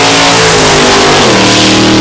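A Pontiac Le Mans drag racing car with an engine of up to 1000 horsepower revs hard and loud, a sustained close roar rising slightly in pitch over two seconds.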